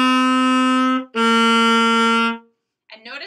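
Saxophone playing two cleanly tongued, separated notes of about a second each, close and bright, followed after a pause by a brief voice.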